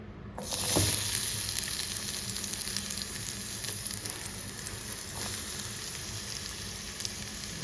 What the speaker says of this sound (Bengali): ঘিটা গরম হয়ে গেলে দেবো পেঁয়াজ কুচি